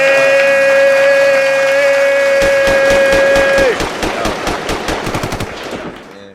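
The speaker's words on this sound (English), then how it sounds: "there's definitely a lot of gunshots going on" Rapid bursts of gunfire crack out loud and close, first as a dense stream under a sustained tone, then as separated shots that thin out and stop.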